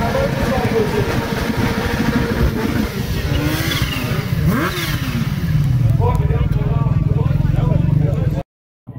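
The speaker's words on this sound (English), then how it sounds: "we're back now to two wheels and motorcycles" Motorcycles from across the ages climb the Kop Hill Climb course, engines revving loudly and continuously near the microphone, with a commentator speaking over the roar.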